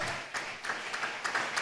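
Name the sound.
congregation giving a loud round of applause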